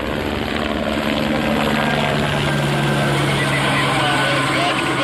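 A helicopter arrives overhead at a paragliding accident scene, its rotor and engine drone loud and steady throughout, with a low tonal hum beneath the broadband wash.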